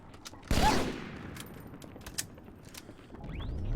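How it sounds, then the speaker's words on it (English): A sniper rifle shot in Halo 2 cracks once loudly with a long decaying tail, followed by faint scattered game effects and background noise, with no talk over it. "look at that sniper rifle work"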